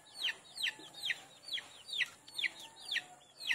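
Rhode Island Red chickens clucking at feeding time on a farm, a repeated series of bright, rising calls in a quick regular rhythm, fairly close, with no talking over them.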